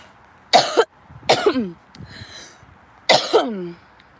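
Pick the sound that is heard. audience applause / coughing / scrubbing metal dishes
coughing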